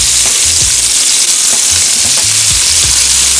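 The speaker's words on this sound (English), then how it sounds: "now I'm going to start turning my salmon" Blackened salmon bites sizzle loudly in a hot pan while being turned, a dense steady fry punctuated by a few scraping flips, with nobody talking.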